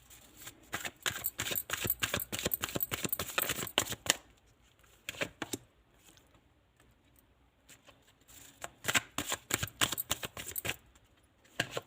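A deck of tarot cards is shuffled by hand in two long bursts of rapid, close, crisp flapping clicks, separated by a quieter stretch of occasional soft taps.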